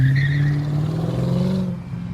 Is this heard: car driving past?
yes